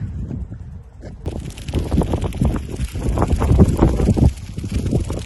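Strong gusty wind buffets the microphone in an open field during kite flying, coming in loud rumbling bursts after a brief quieter start.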